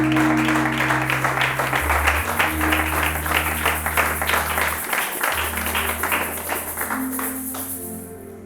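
A church congregation applauds to acclaim God after a worship service, steady dense clapping throughout with sustained keyboard or organ tones underneath, fairly loud and continuous before easing slightly toward the end.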